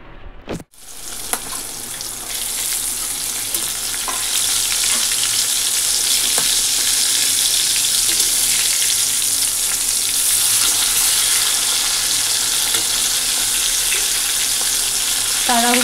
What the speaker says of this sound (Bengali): আর এই যে মাছ ভেজে নেব